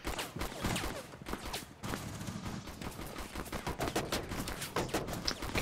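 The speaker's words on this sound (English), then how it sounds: "Polly keeps shooting a fucking Mir or yeah, Mirage" Rapid gunfire from a video game, apparently an online shooter involving characters called Mirage and Alibi, rattles in dense continuous bursts, fairly faint and steady throughout, with no talk.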